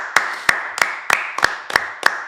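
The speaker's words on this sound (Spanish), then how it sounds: "un aplauso a Gael" A single person clapping for Gael during a livestream, seven sharp evenly spaced claps, close and loud, with no talk over them.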